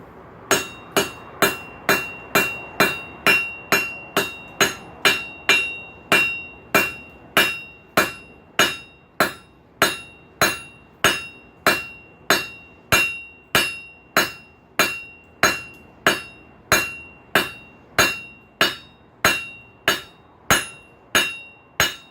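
A hammer strikes hot steel on an anvil, forging a paddle bit: a long, steady series of sharp, ringing metallic blows at an even rhythm, loud and close with no talk.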